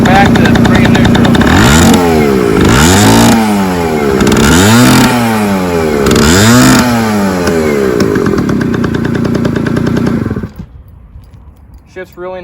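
A 1967 Yamaha U5E 50cc scooter engine runs loud and close, revving up and down in repeated sweeps as it moves through its gears, then drops off sharply to quieter idling and handling sounds.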